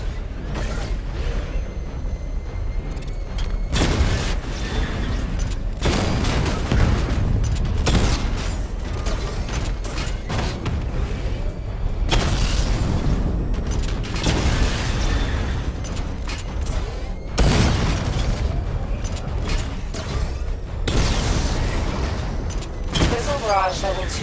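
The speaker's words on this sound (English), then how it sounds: "Charge up missile barrage to level 2 and destroy 4 active targets to complete diagnostic test." Missile barrage explosions in the video game Batman: Arkham Knight, a series of loud bursts and booms with mechanical whirring and creaks between them, repeating across a long stretch of busy combat sound.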